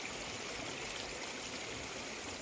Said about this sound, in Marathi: जुळजुळ वाहणारं पाणी आहे.